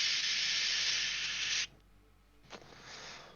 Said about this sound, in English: he puts away the spray gun